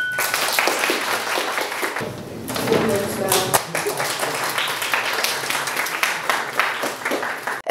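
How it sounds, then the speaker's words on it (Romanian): Club members applaud at an Interact club ceremony opening a new presidential term, steady clapping filling the room with a brief break, under some talk. "marcat cu ropote de aplauze din partea membrilor Interact"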